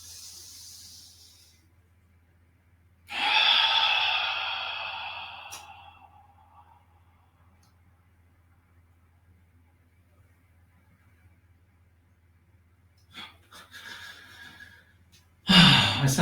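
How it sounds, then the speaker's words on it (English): One long, deep inhalation rushes in during a shiatsu class breathing exercise, loud and close before slowly fading, with quiet room sound around it and a few brief breathy noises near the end. "Again, breathing in."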